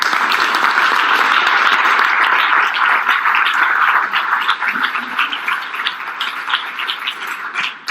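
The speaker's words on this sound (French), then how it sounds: "je vous demande d'applaudir Aurélien" Sustained audience applause at a French real-estate talk, loud and dense for the first few seconds, then thinning into scattered claps toward the end.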